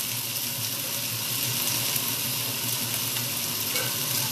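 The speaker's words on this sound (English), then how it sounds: "so it's just gently sizzling away" Food sizzles gently and steadily in a pan on lowered heat, a soft continuous crackle and hiss with no talking.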